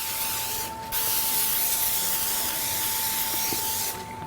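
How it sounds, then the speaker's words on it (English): Cooking spray hisses onto freezer paper while coconut buns are prepared. It comes as one steady, close spray lasting about three seconds, with a short pause before it and a faint tonal hum underneath. "Now I put some freezer paper there, and I'm just gonna make sure I spray."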